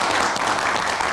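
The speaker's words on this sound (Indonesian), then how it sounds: "Kita berikan tepuk tangan." Steady applause from an audience, a dense wash of clapping that holds evenly throughout without any voices on top.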